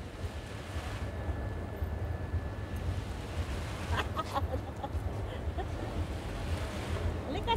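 A fountain outside a restaurant in Salmiya splashes in a steady, continuous wash of water, with faint voices now and then in the background.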